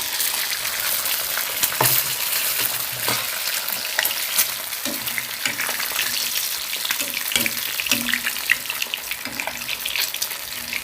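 Eggs fry in a hot pan with a dense, continuous sizzle and crackle, joined by scattered light taps and clinks of a utensil, close and steady with no talk.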